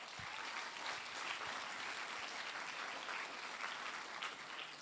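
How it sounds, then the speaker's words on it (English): An audience at an XR awards ceremony claps in a sustained, even round of applause, heard somewhat faint and distant throughout. "big round of applause to all of those people as well"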